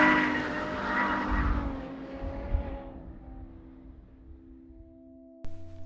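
A Ferrari F12berlinetta with a 6.2-litre V12 is driven hard, its engine roaring and tyres squealing and skidding loudly before the sound fades into the distance, followed by a brief low thump.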